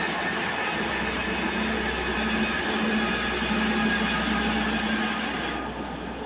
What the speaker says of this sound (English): J3 now departing for our Newcastle Winter Train service.